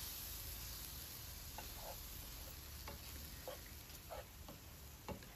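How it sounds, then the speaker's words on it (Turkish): Roasted flour with cold milk just added, stirred in a pan over low heat, a faint steady sizzle with soft intermittent scraping and tapping of the spoon. "Karıştıralım."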